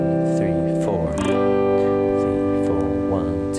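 Guitar chords from a chord progression strummed in rhythm, several strokes ringing together close by, with a voice counting over the playing.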